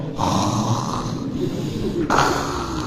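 A voice imitating snoring, with rough, rasping inhaled snores in two long pulls, close and loud, and no ordinary speech.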